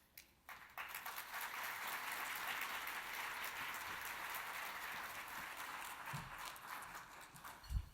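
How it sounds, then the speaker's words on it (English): Sustained applause from a conference audience at a plenary panel session, steady and fairly distant, dense clapping filling the room for several seconds before fading near the end. "Again, a round of applause"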